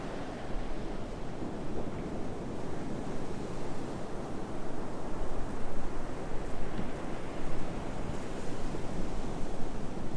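Ocean surf at Surfside Beach near Myrtle Beach rolls and washes continuously onto the shore, a broad steady roar with gentle swells and some wind, no voices.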